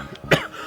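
A single short, sharp cough bursts out once near the middle, moderately loud against a quiet indoor background.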